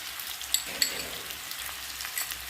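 Chopped onion drops into a hot pan of oil with cumin seeds for spicy Vidarbha-style brinjal bharit, giving a steady close sizzle with a couple of sharp clicks as the pieces land.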